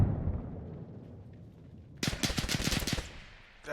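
A grenade blows up in a 12-versus-12 ranked online shooter match on the Barzan map: a sudden loud blast cuts through quiet background noise and breaks into a rattling burst of cracks for about a second before fading.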